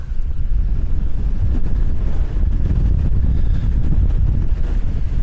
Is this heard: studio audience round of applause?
no